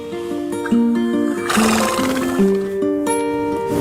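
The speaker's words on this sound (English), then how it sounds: "And wild horses." Wild horses neigh and whinny in a string of loud, close calls with wavering tones, one call overlapping another, and a brief rougher burst in the middle.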